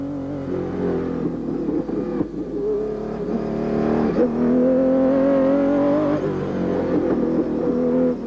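An Aston Martin driven around the Nürburgring, its engine droning steadily with rising and falling revs through gear changes, close and continuous, heard from inside the car.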